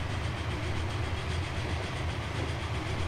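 A passenger train runs steadily along the track in the Transport Fever simulation game, a continuous low rumble with faint clickety-clack, unbroken for the whole stretch.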